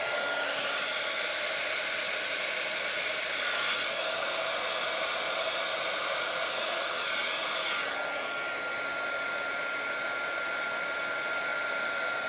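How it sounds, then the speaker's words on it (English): A heat gun blowing air while spreading opaque white resin across a cheese board, a loud, steady whirring hiss held close for the whole stretch with slight shifts in tone as it moves. "You can see I'm just moving it with my heat gun."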